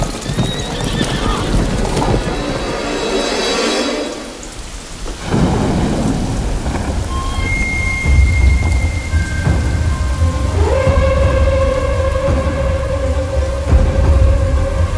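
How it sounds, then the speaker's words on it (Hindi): Rumbling thunder rolls through steady rain, with a broad low roar and scattered higher tones layered over the storm. "तूफान तैयार।"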